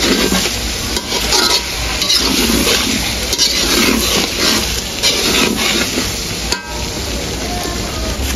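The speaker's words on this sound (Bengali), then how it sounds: "রসুন দিয়ে তো কিছুক্ষণ ভেজে নিয়েছি।" Garlic sizzles in a pan as part of an onion-free achari hilsa curry with amra and cumin paste, a dense steady crackle with scraping stirring and a few utensil clinks, close and continuous without talk.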